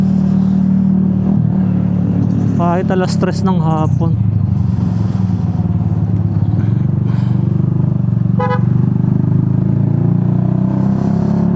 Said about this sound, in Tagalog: Grabe naman ang traffic ngayon dito.